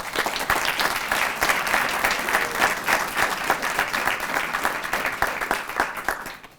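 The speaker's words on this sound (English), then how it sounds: "Give both of them a round of applause." An audience applauds newly promoted police sergeants at a promotion and swearing-in ceremony, dense sustained clapping from a crowd indoors that fades out at the end.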